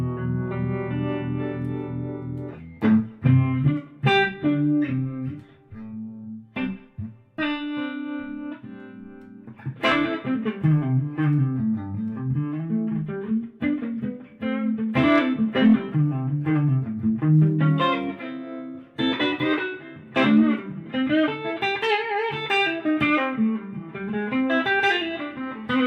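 An electric guitar plays through an amp with a pulsing, wavering harmonic vibrato on sustained notes and chords, loud and clear, with no talking.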